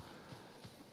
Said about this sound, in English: our trusty horse.